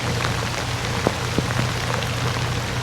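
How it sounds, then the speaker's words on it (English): Heavy downpour pelting a swamp, a dense, loud, continuous hiss of rain with scattered sharper drop hits close by. "Riding through the swamp in a downpour."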